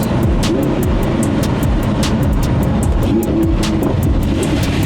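A Lamborghini Huracan LP 610-4 in sport mode gives off a steady, loud, close engine roar with a throaty low rumble, marked by rapid repeated crackles or pops throughout, with no talking.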